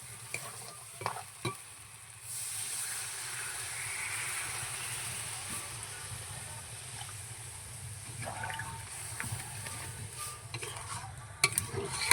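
Pre-fried potatoes go into a pan of spiced home-style chicken curry. Faint clinks come first, then a steady, soft sizzle with stirring scrapes continues close by, with no talking.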